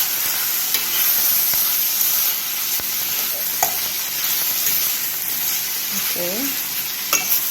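Ackee and saltfish being stirred in a frying pan, a steady close sizzle with scraping spoon strokes throughout and a brief spoken word near the start.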